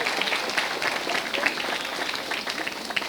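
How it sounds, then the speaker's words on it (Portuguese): A church audience at a couples' gathering breaks into applause, a dense, continuous patter of clapping filling the room for a few seconds. "Dê um aplauso ao Senhor Jesus."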